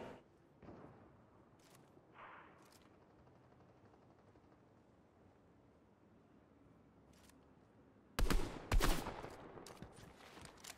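Gunfire in Fortnite Zero Build: a few isolated faint shots and clicks, then a sharp burst of two or three loud cracks near the end, over a quiet game background.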